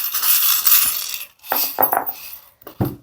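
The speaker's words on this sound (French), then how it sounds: "je vais tirer quelques breloques pour peaufiner ce tirage" Small charms drawn during a tarot reading clink and rattle in a few brief bursts, close and fairly loud, with short quiet gaps between them.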